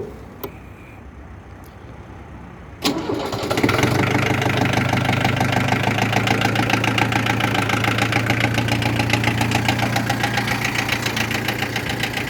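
A Yanmar FX28D tractor engine cranks and catches after a couple of seconds, then settles into a loud, steady, knocking diesel idle close by.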